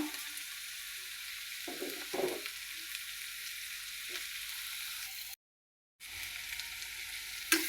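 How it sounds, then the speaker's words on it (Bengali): Chili and turmeric powder fry in oil for a crab curry, a quiet steady sizzle with a few soft stirring scrapes, a brief dropout near the end, no voices. "তেলে মরিচ মরিচের গুঁড়া হলুদের গুঁড়া দিয়ে দিলাম"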